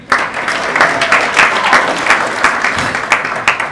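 A wedding crowd applauds Dylan as he steps up to give a toast. Dense, steady clapping from many guests fills the room throughout, with a few sharper claps standing out near the end.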